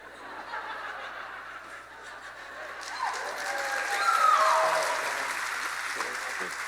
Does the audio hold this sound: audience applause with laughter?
yes